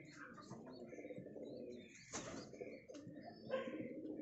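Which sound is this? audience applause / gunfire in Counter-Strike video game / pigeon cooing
pigeon cooing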